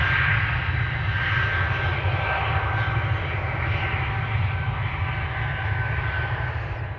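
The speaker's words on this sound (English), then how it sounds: "you're hearing the engines of an A330" Airbus A330 jet engines run at Amsterdam Schiphol Airport, a loud, steady roar with a heavy low rumble and constant hiss, unbroken and close by throughout.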